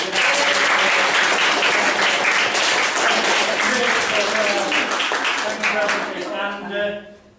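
A hypnosis and NLP bootcamp audience gives a sustained round of applause, dense and loud for several seconds before tapering off, with a voice speaking faintly over the end.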